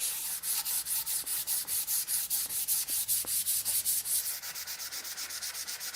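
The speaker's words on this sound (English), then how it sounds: "The thing I do like about sanding this way is that if you have any micro facets in there left over from your carving, this helps to remove them" Hand sanding of a carved flamed maple guitar neck, a steady rhythmic rub with roughly two strokes per second, close and continuous, with no talking.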